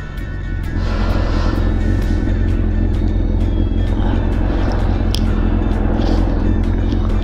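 A Honda CB750F motorcycle being ridden on a mountain road, its steady engine drone and low rumble running loud and unbroken, with wind noise layered on top.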